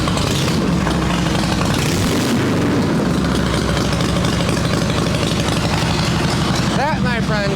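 Harley motorcycle engine firing after a kick start and running loud and close, a rough, dense rumble with popping. Possible voices are buried in the engine noise.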